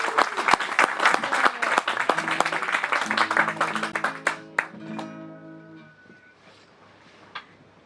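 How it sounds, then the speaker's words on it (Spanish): Audience applause greets a singer of Chilean décima at a cultural event, a dense burst of clapping that fades out over several seconds while a few soft notes ring beneath it. "a quien saludamos con un tremendo aplauso"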